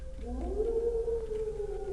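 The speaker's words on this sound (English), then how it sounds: "I heard an angry dog" An angry dog in the video game Killing Time lets out a long, rising howl that holds and wavers for about two seconds, fairly close, over a low ambient rumble with no talking.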